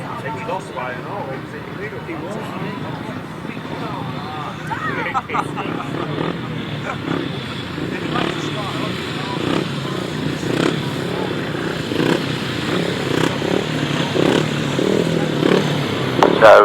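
Grasstrack racing motorcycles at the 2018 British Grasstrack Championships roar together in a race, a steady dense engine drone with crowd babble underneath, building slightly louder toward the end.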